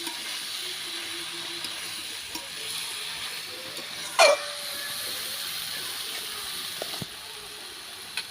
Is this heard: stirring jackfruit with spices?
yes